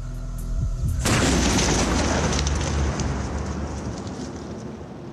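Five grams of guncotton explode on rock, a sudden loud broadband blast followed by a long hissing, crackling decay with no voices.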